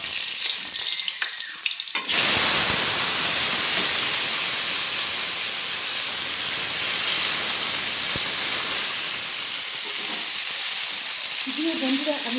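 New potato pieces drop into a hot pan of cabbage and prawns, setting off a loud, sudden sizzle that keeps hissing and crackling steadily after a quiet moment of stirring.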